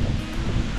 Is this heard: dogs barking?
no